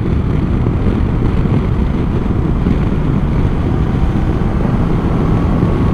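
A 2022 Honda CB500X motorcycle cruising on the Autobahn, heard as a constant loud roar of wind buffeting and engine drone at speed, unbroken throughout.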